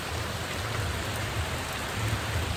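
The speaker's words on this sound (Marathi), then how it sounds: "पाऊस पडतोय भरपूर आणि पार्सल द्यायला आलो" Heavy rain pours down steadily in Panvel, Maharashtra, a dense, unbroken roar of drops hitting surfaces close around, with no talking.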